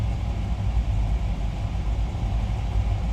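Race car engines idling on the starting grid in an iRacing Le Mans sprint, a steady low rumbling drone with a throbbing mid-range engine tone, constant and moderately loud.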